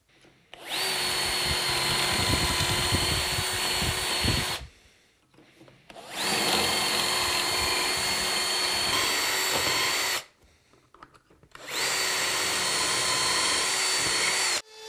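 A Bosch power tool drills dowel holes in solid timber for a drawer front, running loud and steady in three long bursts of several seconds each with short quiet gaps between.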